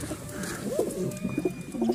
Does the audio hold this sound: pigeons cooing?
yes